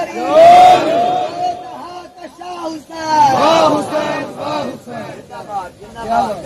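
A large crowd at a religious gathering commemorating the martyrs of Karbala shouts a slogan back in loud unison in two strong bursts, with voices echoing through a sound system.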